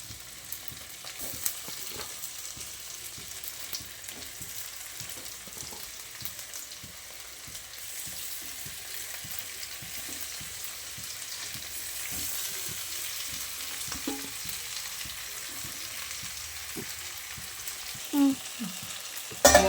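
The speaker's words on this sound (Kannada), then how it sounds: "ಇವಾಗ ಈರುಳ್ಳಿ ಫ್ರೈ ಆಗಿದೆ ಲೆಗ್ ಪೀಸ್ ಹಾಕಿದ್ದು" Chicken leg pieces fry in ghee with already browned onion, giving a soft continuous sizzle with frequent small crackles and occasional utensil knocks near the end, heard alone at moderate level.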